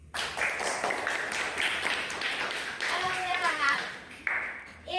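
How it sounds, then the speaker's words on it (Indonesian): A classroom of students clapping hands together in a short, brisk burst of applause indoors, mixed with children's voices and chatter throughout. "Oke, tepuk tangan dulu."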